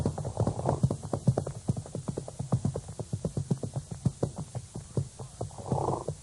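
Horses walk toward a watering pond among trees, their hooves clip-clopping in a steady, even rhythm, close and clear throughout with faint background hiss.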